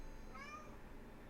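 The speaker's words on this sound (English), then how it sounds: "Kevin, you are a cat" A single short cat meow, faint and mid-distance, rising then falling briefly over a constant noisy background with no talking.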